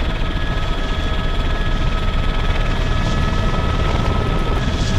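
A continuous helicopter rotor drone in the video game Arma 3, with steady engine hum, loud and close, holding an even level throughout without talk.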